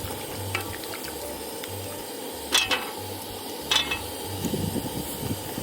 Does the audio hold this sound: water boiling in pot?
yes